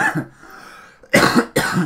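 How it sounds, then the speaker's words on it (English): A person coughs in a short, harsh burst, pauses, then coughs twice more, loud and close, with no talk over it. "I'm probably smoking too much this week. It's giving me a really bad cough."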